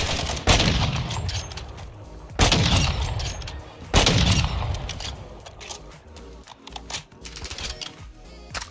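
Gunfire in Call of Duty: MWII's DMZ mode, three loud sharp shots with echoing tails at the start, followed by quieter rapid clicking and scattered distant pops.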